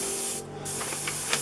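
A fine mist of dilute white paint hisses steadily from an airbrush onto a model locomotive being weathered, a close, continuous spray lasting the whole short moment.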